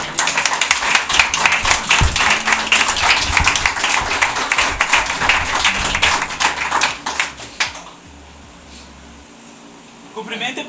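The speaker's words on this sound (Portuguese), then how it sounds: "Dê uma salva de palmas a Jesus" A church congregation clapping during a worship service, dense rapid applause filling the room for about eight seconds, then fading to quiet before a brief return, with speech mixed in.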